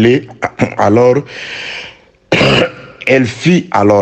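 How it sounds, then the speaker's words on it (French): A man reading a French Bible passage aloud breaks off for a short, rough throat clearing and cough between stretches of his own speech. "j'ai un peu la toux"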